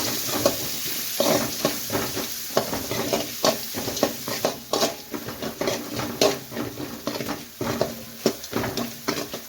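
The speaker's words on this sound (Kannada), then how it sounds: "ಸ್ವಲ್ಪ ಇಂಗು, ಸ್ವಲ್ಪ ಅರಿಶಿನ. ಸ್ವಲ್ಪ ಇದನ್ನು ಫ್ರೈ ಮಾಡ್ಕೊಳ್ಳೋಣ." Asafoetida and turmeric frying in hot oil for a Bombay sagu, a steady crackling sizzle broken by frequent clinks and scrapes of a utensil stirring against the pan, close and fairly loud throughout.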